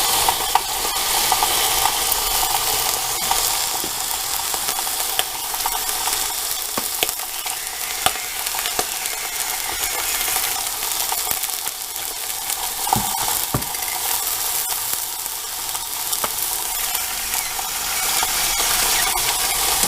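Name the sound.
whole chicken sizzling while browning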